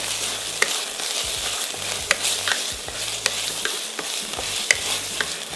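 Coriander and mint leaves stirred and frying in a pot, a continuous sizzle with periodic scraping strokes of the spoon roughly every second, close and steady, no speech.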